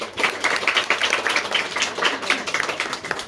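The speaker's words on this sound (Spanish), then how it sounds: "Aplausos para doña Martina." Steady applause from a small group at a Mother's Day celebration in a small school in Joyabaj, Guatemala, many hands clapping in a quick, even rhythm.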